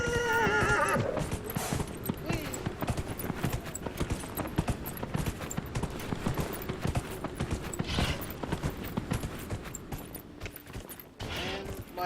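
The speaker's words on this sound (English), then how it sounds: "And my horse jump fences." A horse whinnies, then hooves clatter in a rapid galloping rhythm for several seconds, with another neigh later, all from the video game Dragon Age: Inquisition.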